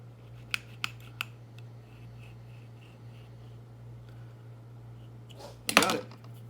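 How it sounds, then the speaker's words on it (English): A blade cuts slits into a CSD 16 shotgun shell wad for a 16-gauge turkey load, three quick sharp snips early, quiet handling with a low steady hum, then a louder scraping cut near the end. "I'm doing a half cut on the wad"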